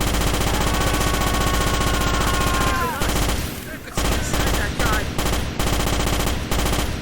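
Sustained automatic gunfire at arachnids in the Starship Troopers video game, a loud continuous roar of rapid shots that breaks into short repeated bursts, up close under a heavy game soundscape.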